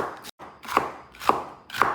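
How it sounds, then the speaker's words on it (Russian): A knife chops through onion on a board in a home kitchen, with three spaced, crisp cuts about half a second apart, fairly quiet and close, with no talking. "Итак, нарезаем лук"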